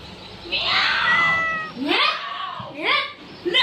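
A person's voice imitates a cat, producing several drawn-out, rising and falling meows close to the listener, with short gaps between calls.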